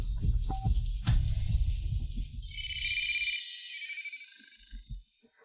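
A telephone rings on an outgoing call, an electronic trilling tone that rises over low rumbling background sound and then cuts off sharply.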